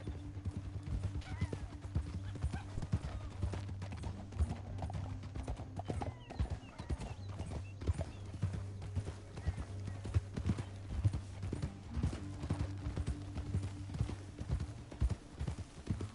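Steady clip-clop of horse hooves at a gallop in the video game Red Dead Redemption 2, continuous and fairly loud, with a low engine-like hum underneath and occasional snorts.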